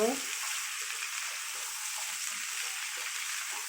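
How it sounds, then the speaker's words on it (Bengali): Mixed vegetables fry in a pan, stirred until golden brown, giving a steady broadband sizzle that holds throughout. It sounds fairly faint and close, with no talking. "আমি এখানে সব সবজিগুলোই দিয়ে দিয়েছি এগুলোকে এখন নেড়ে নিব গোল্ডেন ব্রাউন হওয়া পর্যন্ত"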